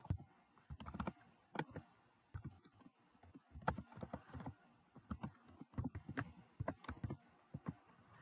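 Typing on a computer keyboard, close and fairly quiet, with irregular bursts of clicking keystrokes and short pauses between words.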